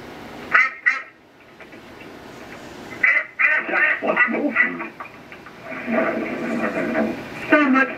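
Cartoon ducks quack repeatedly in a Peppa Pig scene by a pond, with bursts of quacking in quick clusters, some loud and close, mixed with cartoon voices and background music.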